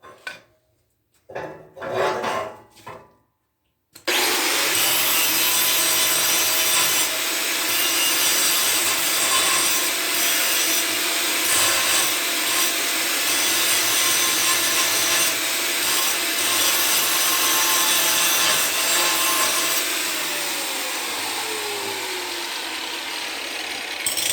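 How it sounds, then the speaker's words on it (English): Angle grinder removing rust from the steel frame of a firewood trailer before welding: a few brief bursts, then a loud continuous grinding whine that holds steady for about twenty seconds, with slight shifts in pitch as it bears down on the metal. "We'll grab the grinder and get a little bit of this rust off here so it'll weld better."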